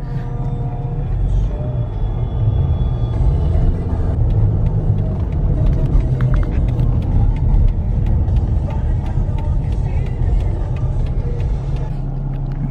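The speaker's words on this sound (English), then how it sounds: "he is driving this taxi" Steady low engine rumble and road noise of a taxi in Singapore, heard from inside the cab as it drives, with a continuous hum and occasional faint clicks throughout.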